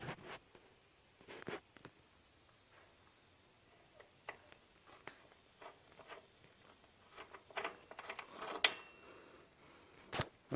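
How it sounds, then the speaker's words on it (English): Loosening and removing the rear axle nut on a 2011 Harley-Davidson Electra Glide: scattered light metallic clicks, ticks and scrapes, close and fairly quiet, with sharper clanks near the end and no talking. "then you'll take the axle nut out, which we're getting ready to do"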